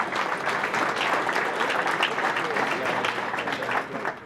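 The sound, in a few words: audience applause at a breakfast event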